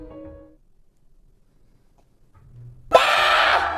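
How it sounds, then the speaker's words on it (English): After a nearly silent stretch with a faint low hum, a sudden loud, harsh scream bursts in and holds until the end. "There's the scream."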